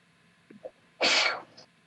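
A single sudden sneeze bursts out after a quiet moment with a small sharp intake of breath, fairly close and clear against a soft background hum.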